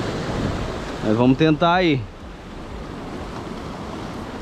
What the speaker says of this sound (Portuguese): tá batendo a água aqui, hein? A ondulação tá alta hoje